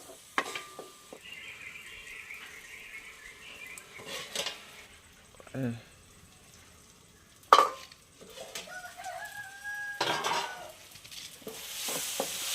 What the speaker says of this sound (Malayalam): അപ്പോൾ നമ്മുടെ തക്കാളിയും സവാളയും നന്നായിട്ടൊന്ന് വഴണ്ട് വന്നിട്ടുണ്ട്